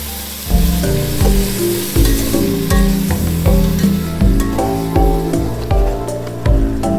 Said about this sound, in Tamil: எல்லாத்தையும் ஒரு வாட்டி இந்த மாதிரி மிக்ஸ் பண்ணிக்கலாம்